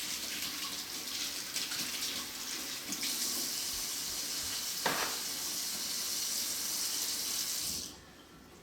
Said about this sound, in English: First thing, gotta wash those hands.